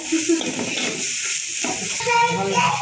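A potato curry seasoned with garam masala is stirred in a pot with a soft sizzle and a few scraping strokes, partly masked by someone speaking over it.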